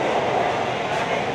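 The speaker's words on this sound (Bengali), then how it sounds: "মেট্রোটা চলছে গঙ্গার নিচ থেকে" A metro train on the Howrah to Esplanade line rumbles steadily and loudly through a tunnel beneath the Ganga river, a constant roar of wheels and motor.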